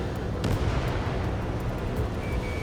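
Anti-aircraft guns open fire during a battle in the flight game Ace Combat 7, sending out a dull, continuous roar of distant artillery bursts with a few sharper cracks near the start.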